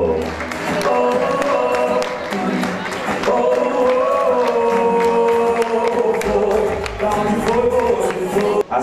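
Sustained applause from an evening show audience, steady and fairly loud from start to finish, with music carrying along underneath the clapping.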